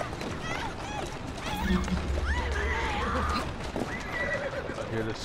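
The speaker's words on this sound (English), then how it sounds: "You better get on my horse." A horse in the Assassin's Creed Syndicate game whinnies and clip-clops in a busy street scene, hoofbeats and neighs clear over background voices and ambience.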